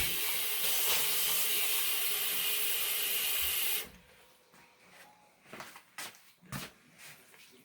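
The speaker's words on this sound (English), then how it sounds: "The steam's what's going to cook it anyway." Steady, fairly loud steam hiss from a cooking pot of Appalachian cabbage soup runs unbroken for several seconds, then cuts off, leaving quiet clinks and light handling sounds.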